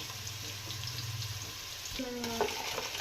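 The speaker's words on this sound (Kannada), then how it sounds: "ಖಾರದ ಪುಡಿ ಸ್ವಲ್ಪ ಫ್ರೈ ಆಗ್ತಿದ್ದಂಗೆ" Chilli powder frying in oil over a medium gas flame for Gowri fish sambar, a steady close sizzle running throughout, with a brief low voice-like tone in the middle.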